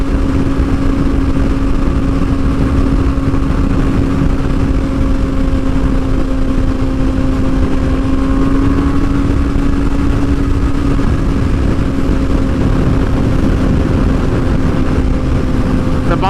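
A 2022 Kawasaki Ninja ZX6R KRT with a flashed ECU holds a loud, steady engine drone with a strong sustained tone, close to the microphone and continuous throughout.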